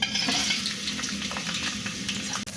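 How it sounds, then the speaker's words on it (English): Diced onions frying in vegetable oil in a sufuria for a masala chicken curry, a dense steady sizzle close by with faint stirring scrapes and a brief dip near the end. "In sufuria, add your vegetable oil, then add your diced onions."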